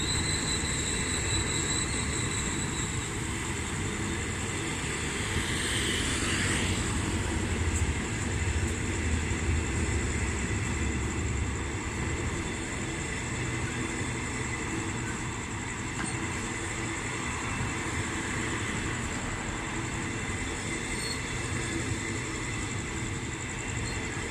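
Hitachi-built locomotive number 4504 hauling a special express train on a Thai railway, a steady broadband rumble of rolling wheels and engine sustained throughout, close and fairly loud, with no talking.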